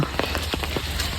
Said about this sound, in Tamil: மழை சவுண்டு கேட்குதா